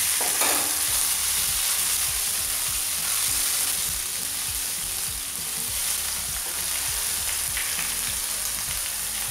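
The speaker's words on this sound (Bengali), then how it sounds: "হলুদ বাটা গুঁড়া আমি একটু ভেজে নিচ্ছি মশলাটা" Turmeric and spice paste frying in a pan for Bangladeshi hotel-style singara filling, a steady loud sizzle with stirring scrapes running throughout, no voices.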